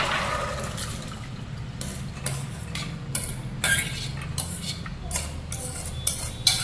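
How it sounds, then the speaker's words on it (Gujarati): Water soaked overnight off rinsed chana dal is poured away, a steady splashing, trickling flow with brief clinks and surges throughout, close and fairly loud, with no talking. "હવે આપણે પાણીને ઉતારી દઈશું."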